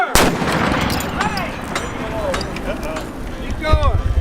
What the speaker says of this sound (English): Gun number 7, prepare to fire!